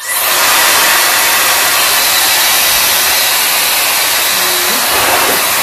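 Shark FlexStyle hair dryer blowing hot air, a loud steady broadband whoosh that holds for the whole stretch with only slight shifts as heat and airflow settings change.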